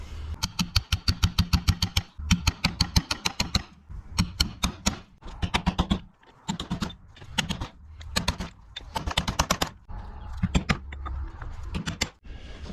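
Steel oil seal being driven into the PTO housing of a 1955 Fordson Major Diesel tractor: rapid bursts of sharp metallic taps and hammer strikes, close and repeated in clusters with brief pauses between.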